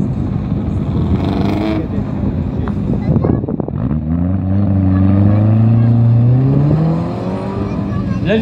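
A Caterham replica race car with a Ford Pinto 2-litre engine at a historic hill-climb in Saâcy, 2019, revs loudly and climbs in pitch as it accelerates past, under wind noise and background voices.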